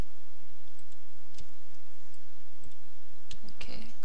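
A few sharp mouse clicks stand out over a quiet hiss, scattered irregularly with a small cluster near the end.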